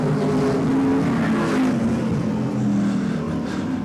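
Vintage modified race cars roaring around an oval track on the final lap, a loud, continuous engine drone with rising and falling revs from several cars passing.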